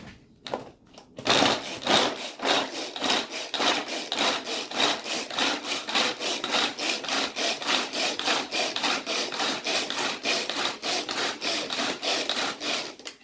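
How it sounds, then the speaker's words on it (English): Carrots being chopped with a knife on a board in a home kitchen, a fast steady run of sharp rhythmic cuts, close and loud, continuing without pause and with no talk. "Yes, you can chop carrots too."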